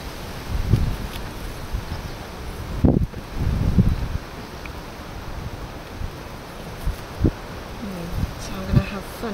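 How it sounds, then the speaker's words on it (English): Wind blows across an outdoor campfire cooking spot as a steady broadband rush and buffeting against the microphone, with rustling and a few brief gusts throughout. "Windy."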